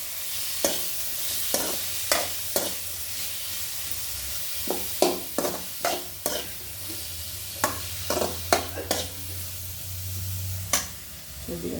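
Onions frying in a pan for semiya upma, a steady low sizzle broken by a dozen or so sharp scraping clacks of a spatula stirring at an uneven pace, close by and with no talk.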